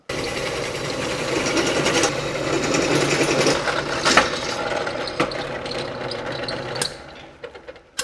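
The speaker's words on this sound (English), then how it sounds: "and you drill your hole." A drill bores a hole through round stock clamped upright, giving a steady grinding, ratcheting mechanical whir that runs for about seven seconds before winding down into a few scattered clicks.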